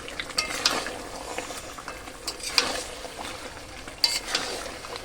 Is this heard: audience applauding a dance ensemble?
no